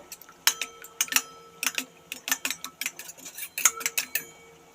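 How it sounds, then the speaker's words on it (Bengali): An egg being beaten with a utensil in a bowl for chicken soup: rapid, bright clinking taps in uneven bursts, close and fairly loud, with no talking. "এরপর আমি একটি ডিম এইভাবে ঘেঁটে নেব।"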